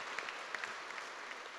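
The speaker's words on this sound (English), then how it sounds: "can we give a big round of applause for the previous speaker?" An audience at an education conference claps in a steady patter of many hands, moderately distant and faint, with no voices over it.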